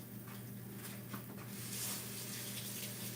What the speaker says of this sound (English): I'm just rinsing off some blueberries.